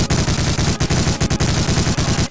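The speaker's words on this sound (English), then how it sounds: "I was slaughtering German soldiers with an MG42" An MG42 machine gun firing in the World War II shooter Medal of Honor: Allied Assault, a loud, dense, rapid burst of automatic fire with only brief breaks, close and harsh.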